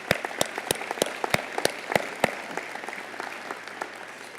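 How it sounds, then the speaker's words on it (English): Audience applause at a city State of the City address, with a handful of sharp individual claps standing out over a steady wash of clapping from the crowd in a large hall. "Give her a round of applause."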